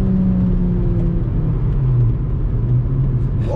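A Volkswagen Jetta five-cylinder with straight exhaust drones loudly and close, a steady low engine rumble with tones that drop slightly as it shifts gears while accelerating.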